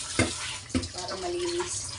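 Tap water runs over mung beans being washed, with a steady gush and a couple of brief splashing knocks near the start. A voice is faintly present.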